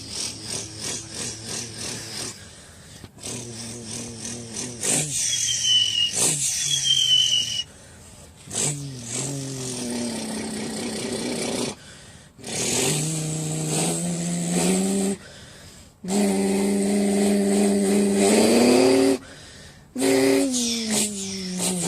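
A voice imitates engine sounds in bursts, buzzing and revving like a tractor and a motorcycle, with rising whines and rattly idles separated by short pauses, loud and close.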